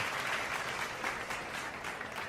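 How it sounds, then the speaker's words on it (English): Crowd applauding at a baseball game between the Rockies and Dodgers, a broad steady wash of clapping from a large stadium audience, sustained and even throughout with no talk on top. "Give the Rhino a round of applause"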